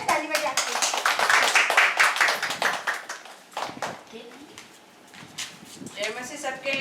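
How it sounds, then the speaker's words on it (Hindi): A worship congregation claps hands in rhythm, loud bursts of claps mixed with voices singing and speaking, fading briefly before picking up again. "आइए हम स्तुति आराधना के लिए प्रभु का स्वागत करते हैं। ताली बजाते हैं।"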